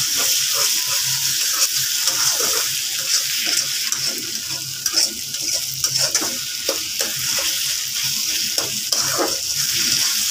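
Ginger-garlic paste fries in a pan while it is stirred, giving a loud, continuous sizzle broken by repeated scraping strokes throughout, up close with no voices.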